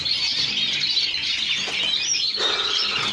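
Small caged birds in an aviary chirp and tweet in quick, high, overlapping calls, close by and fairly loud, with a brief flutter of movement partway through.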